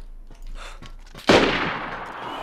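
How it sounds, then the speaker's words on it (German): A single gunshot cracks out in DayZ, loud and fairly close, its sharp onset at mid-clip trailing into a long echoing decay, preceded by quieter background game noise. "Wo ist ein Schuss?"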